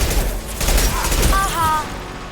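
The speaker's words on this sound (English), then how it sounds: "Firing an impact shot!" Impact shot weapon fire from Mass Effect Legendary Edition, a burst of dense, loud blasts with booming low end, followed by a rising electronic whine as the shot discharges; some voice overlaps.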